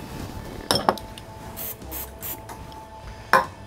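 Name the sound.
spraying oil on griddle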